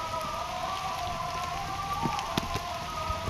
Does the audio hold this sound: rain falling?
yes